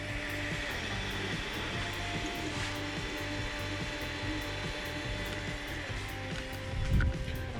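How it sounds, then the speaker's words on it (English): A 3D printer running a long print of Warhammer pieces, giving a steady mechanical whir with a fast, regular ticking of stepper motors, continuous and fairly close. "Our 3D printer is up and running."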